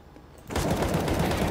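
A burst of gunfire in the video game Counter-Strike: Global Offensive starts abruptly after a quiet moment, dense rapid shots filling the rest of the clip.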